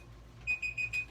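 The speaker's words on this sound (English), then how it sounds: "our timer is done here" A kitchen timer goes off while chicken cooks, four short high beeps in quick even succession over a quiet kitchen hum.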